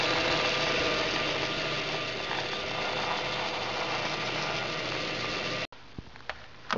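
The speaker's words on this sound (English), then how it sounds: "And then a bit of bandsaw." A bandsaw cuts through foam for an aircraft fuselage part, giving a loud, steady motor drone that runs close and continuous for almost six seconds before stopping abruptly, leaving faint workshop sounds.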